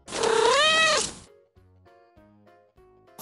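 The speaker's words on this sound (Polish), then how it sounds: "Ryś." A lynx lets out a loud, drawn-out, rising and falling meow-like wail lasting about a second, then light, gentle music notes follow.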